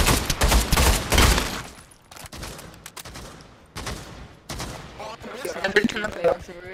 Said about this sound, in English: Whoa, gunshots.